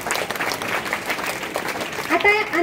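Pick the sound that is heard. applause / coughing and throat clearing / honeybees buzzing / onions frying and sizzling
applause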